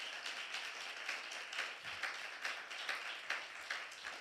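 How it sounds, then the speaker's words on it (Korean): A church congregation at a Friday worship service claps together in a quiet, steady rhythm of distinct beats, heard faintly and at a distance. "박수 한번 하겠습니다."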